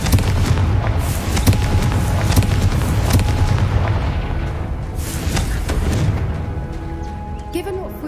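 The Confringo fire spell bursts in Hogwarts Legacy, a series of booming explosive blasts and crackling impacts layered over steady game ambience, fairly loud and close, with sharp hits recurring through the stretch.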